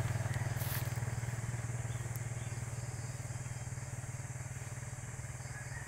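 A motorcycle engine idles or chugs steadily close by, its low, even pulsing rhythm holding for the whole stretch, with faint background noise and no clear talk.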